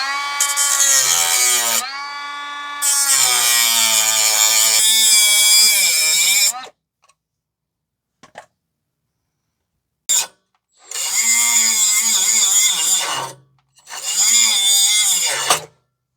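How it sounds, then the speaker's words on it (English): A power tool grinds and cuts through the front exhaust pipe of a 2015 Toyota Sienna AWD 3.5 V6. Loud, high whining bursts of several seconds each are broken by short silent pauses. "Now we're just going to make a line here to grind it down and have to cut it off."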